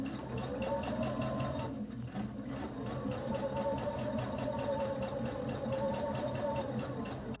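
A sewing machine runs a straight stitch, its motor giving a steady, close mechanical whir with a rhythmic needle chatter that dips briefly and picks back up, with no talk.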